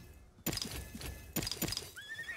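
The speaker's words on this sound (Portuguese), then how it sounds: "Cavalo que peida quando pula." A horse in an Xbox game neighs and whinnies repeatedly as it jumps. Several sharp bursts are mixed with hoof thuds, and a rising tonal squeal follows near the end.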